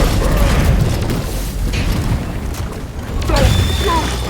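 Grenades go off in a hallway during a dwarf mining co-op game, loud booming blasts and mechanical clatter arriving in bursts, with a fresh thump near the end and voices talking through it.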